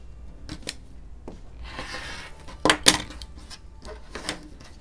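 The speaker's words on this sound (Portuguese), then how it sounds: "Aqui também eu vou cortar o excesso." Scissors snip through excess patchwork fabric, giving several short crisp cuts close by, with a rustle of cloth in between and a couple of sharper snips near the middle; no voice is heard.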